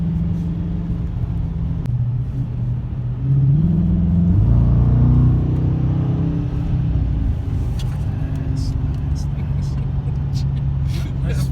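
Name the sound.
2017 Dodge Challenger R/T Plus engine revving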